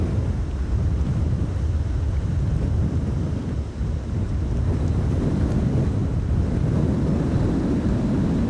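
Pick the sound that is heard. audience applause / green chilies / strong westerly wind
strong westerly wind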